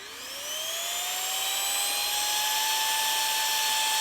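A battery-powered electric air pump switches on and runs steadily, a whining motor tone rising in pitch over the first half second and then holding a constant, loud, close hum with no talk.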